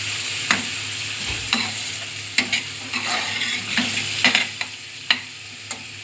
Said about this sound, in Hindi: ये मैंने इसमें अदरक का पेस्ट ऐड कर दिया तकरीबन 1 टीस्पून के करीब। इसे थोड़ा सा हम पका लेंगे।